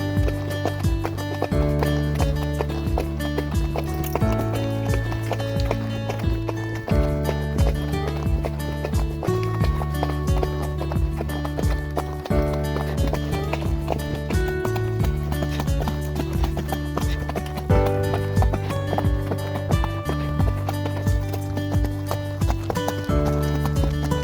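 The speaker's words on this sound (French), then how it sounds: "je vais m'occuper de mon cheval qui s'évade" Steady clip-clop of horse hooves in a continuous rhythm, heard over prominent background music that plays throughout.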